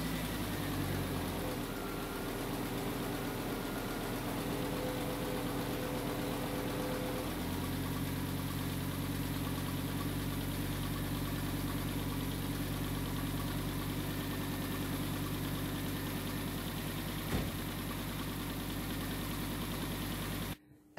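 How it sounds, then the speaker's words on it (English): An Audi 200's engine idles steadily after an engine flush, a constant close mechanical hum with a low throb that shifts slightly partway through, then cuts off abruptly at the end. "I'll start my car and let it run for about another 15 minutes"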